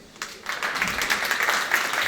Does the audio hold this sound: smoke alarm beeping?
no